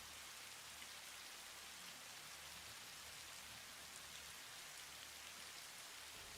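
Steady rain falls in the video game Satisfactory, a soft, even hiss of drops on surfaces that continues unbroken and faint, with no talking.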